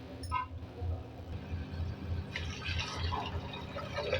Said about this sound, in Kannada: ನಾನು ಇನ್ನೊಂದು ಗ್ಲಾಸ್ ನೀರು ಹಾಕ್ಕೊತೀನಿ.